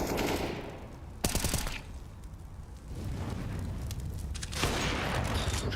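Gunfire in the tactical shooter Counter-Strike during a professional esports match: rapid automatic bursts and heavy shooting fill the whole stretch, with sharp peaks around the start and end.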